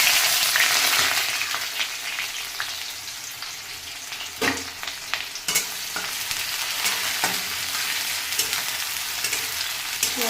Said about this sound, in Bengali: এবার পেঁয়াজ কুচো দিয়ে দেবো।